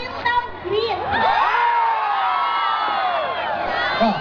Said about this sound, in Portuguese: Quem é São Paulino dá um grito.